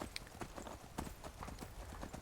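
Horse hooves clip-clop in a quick, steady gait while riding in the video game Skyrim, the hoofbeats crisp and close at low overall volume.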